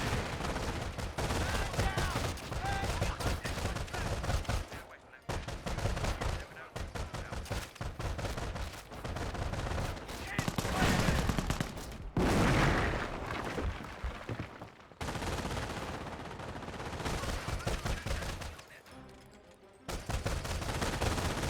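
Company of Heroes 1 battle with an artillery barrage and gunfire: dense, continuous rattling fire and booming blasts with brief gaps, loud and close, with commentary voices underneath.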